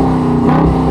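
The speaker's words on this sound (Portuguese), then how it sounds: "Ele tem aquele ronco bem encorpado dos V8s." A Dodge Charger R/T Scat Pack V8 with active exhaust gives a loud, deep, steady rumble up close for a brief moment.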